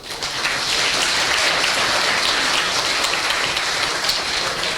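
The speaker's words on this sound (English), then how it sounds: "I want to hear a big round of applause for you all" Audience applause at a medical school white coat ceremony, a dense, even roar of many hands clapping continuously throughout.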